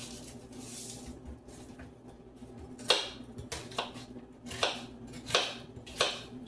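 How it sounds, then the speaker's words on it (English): A knife minces a little onion on a cutting board for a low-calorie cod dinner. There are soft, fairly faint chops at first, then several sharper knife strikes spaced about a second apart. "I'm going to just cut up a little bit of onion, like minced onion here a little bit"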